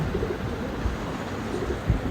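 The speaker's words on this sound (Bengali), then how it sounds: "এই যে দেখেন কবুতর আমার কবুতরের ঘর হলো এটা" Pigeons in a home pigeon loft that holds Bengali and Sirazi breeds give a few soft, low coos. They sit close but are faint under a heavy, steady rumble of background noise.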